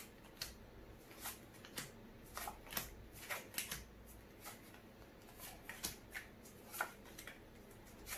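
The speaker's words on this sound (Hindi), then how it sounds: "तो हम लोग नीचे से कार्ड फेस डाउन डालेंगे।" Playing cards are laid face down one after another during a card trick, giving a quiet, close series of crisp slaps and slides at an irregular pace.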